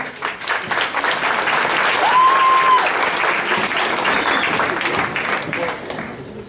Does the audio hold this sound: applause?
yes